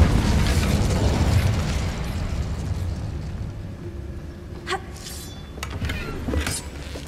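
An Incendio fire spell cast in Hogwarts Legacy gives a loud, rushing burst of flame that roars steadily, then settles into a lower crackle with a few sharp pops and flares near the end.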